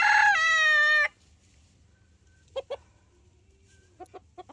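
A loud rooster call opens, followed by quiet and a few short, sharp squawks and clucks as two Silkie roosters fight.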